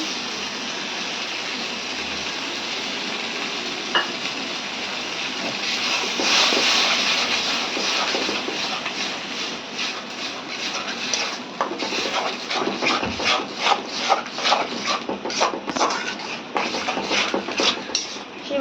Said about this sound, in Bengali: আমি ওইটা ঠিক মতো পাটায় বেটে নিচ্ছি